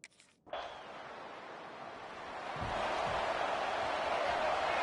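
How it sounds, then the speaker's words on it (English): Stadium crowd in the NCAA 26 college football video game, a broad sustained roar that swells louder partway through and holds steady, with no talk over it. "Listen to this crowd just shaking the girders of this place, trying to help their defense."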